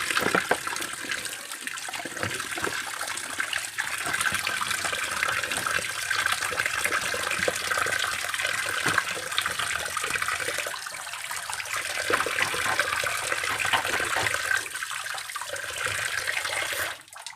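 Tilapia fish being washed under running water, a continuous close rush and splash of flowing water with shifting gurgles as the fish is handled, steady throughout with no talk.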